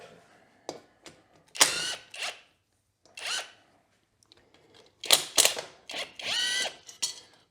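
Ratchet wrench loosening the 8mm bolts on the skid plate of a Kawasaki KLX110 dirt bike, heard as several short bursts of rapid clicking separated by pauses, close up and with no talk.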